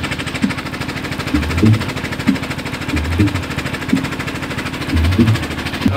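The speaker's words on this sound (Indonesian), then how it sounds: "Oke, ini untuk gensetnya. Genset dari N11 ini loh." A diesel genset belonging to N11 Pro Audio runs nearby, with a steady rumbling idle and rhythmic thumping knocks recurring about every second, loud and close with no voices.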